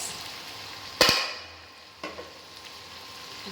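Pre-fried chicken pieces go into a hot pan of spiced masala for chilli chicken, setting off a sharp metallic clatter and a burst of sizzling that fades into a steady low fry, followed by a lighter second clink.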